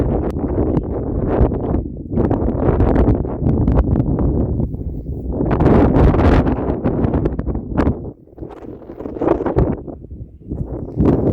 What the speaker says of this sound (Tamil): விண்டு பிளாஸ்ட் காற்று அப்படியே தள்ளுது நம்மளே